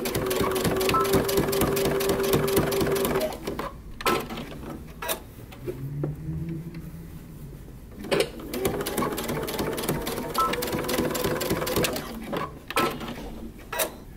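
A domestic sewing machine stitches belt loops onto wide-leg pants, its rapid mechanical chatter running loud and steady, pausing briefly, then resuming in short bursts with small clicks of handling between runs.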